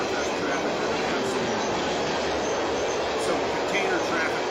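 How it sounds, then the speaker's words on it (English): A BICB freight train with manifest cars rumbles past close by in a loud, steady, broadband roar of wheels and rail noise that continues without a break. "This is the BICB train."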